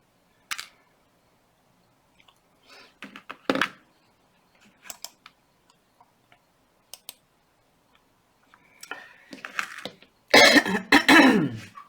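Wire is snipped at an angle with cutters while making a medium wire-wrapped ammonite pendant: a few sharp, close clicks spread across quiet gaps, followed by a louder burst of rustling handling near the end, with no talking.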